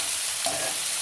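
Dried shrimp and onions with green chillies frying in a pan, a continuous close sizzle with one brief stir-scrape partway through.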